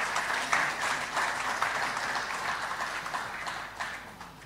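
An audience claps at a regional state-of-the-region address by an executive secretary, a steady, dense patter of many hands that carries on evenly throughout without any talk.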